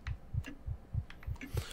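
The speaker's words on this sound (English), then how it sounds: "Oh, please stop the heartbeat shit." Rhythmic heartbeat effect from the horror game Dementia, low muffled thuds pulsing steadily in quick succession, accompanied by faint scattered clicks.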